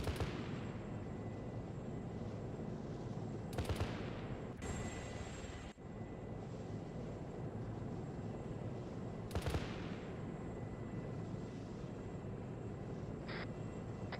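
Gunship cannon fire in the military game Arma 3, heard as a few sharp, loud bursts standing out over a steady engine drone, with no talk.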